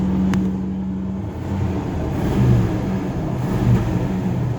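A Chevy camper van engine idles with a steady low rumble close by, holding an even drone with slight swells and no voices.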